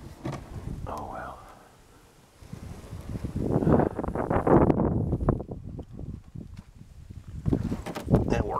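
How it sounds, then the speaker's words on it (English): Strong 27 mph winds sweep across a strip mine lake during bass fishing from a boat, rumbling against the microphone in rising and falling gusts that peak midway and again at the end, with a voice faintly present. "It's very windy."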